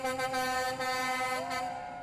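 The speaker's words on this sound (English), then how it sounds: "encouraging passing drivers to show their support by honking" A passing car horn honks in support of protesters at a rally against President Donald Trump, one long, sustained, fairly close blast that fades at the end.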